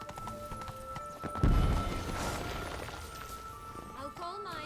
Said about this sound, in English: my horse is called Roach, because apparently Geralt names all his horses Roach